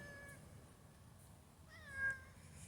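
A cat meowing, two drawn-out meows, the second louder, heard close over a quiet background hiss; the speaker's own meows are imitations of the cat.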